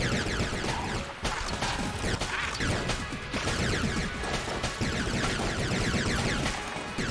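Shotgun blasts in Enter the Gungeon fire in a rapid, continuous barrage, loud crashing bursts overlapping one after another with short dips between volleys.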